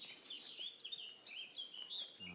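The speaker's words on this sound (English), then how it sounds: "Oh, I can hear another bird." Birds call outdoors among dandelions, a stream of quick high chirps and tweets repeating in rapid bursts, fairly faint and with no talking over them.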